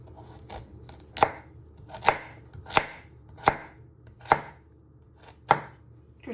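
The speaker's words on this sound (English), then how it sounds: "you just want to chop them" A knife chops peeled carrots into rounds on a board, six sharp, evenly spaced cuts landing about once a second, close and clear with no talk.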